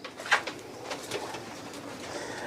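A teddy pigeon, one of a paired couple, gives a short coo near the start, followed by faint, softer murmurs against a quiet background.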